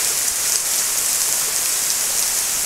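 Heavy rain pours down in a dense, unbroken hiss of drops hitting surfaces, steady and loud throughout with no other sounds.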